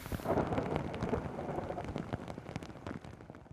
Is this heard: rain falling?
yes